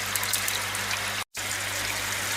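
Water drains down the top pipe of a koi pond filter as a steady close rushing trickle, continuous apart from a very brief cut in the middle.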